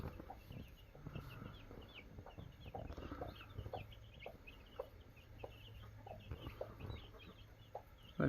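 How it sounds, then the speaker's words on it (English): A mother hen clucks softly and repeatedly among her chicks, whose faint high cheeping scatters throughout; the sounds are close, quiet and irregular, with no speech. "We got ourselves Momma Hen with all the little chickies."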